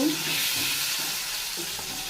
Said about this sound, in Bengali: ডিমটা ভাজা দিয়ে নিচ্ছি।